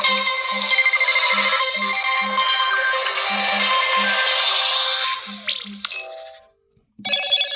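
A Motorola G85 5G smartphone rings with an incoming call, its ringtone repeating in short regular bursts, loud and close, then briefly cutting off before resuming at the end.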